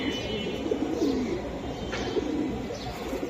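A Giribaz pigeon coos in soft rolling bursts, close and fairly steady, over a low background hum with no talking.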